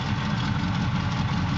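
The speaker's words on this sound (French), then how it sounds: "ce pick-up Chevrolet années 76, équipé d'un moteur V8 350 Chevrolet" A turbocharged Chevrolet 350 V8 in a 1976 Chevrolet pickup idles with a steady, deep rumble. It sounds close and constant, with no voices over it.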